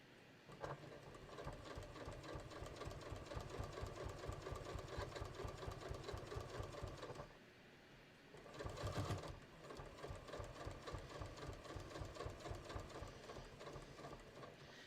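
Sewing machine stitching steadily close to a folded fabric edge on a beach tote, running at a fast even rhythm with a short pause near the middle before resuming, alone and close.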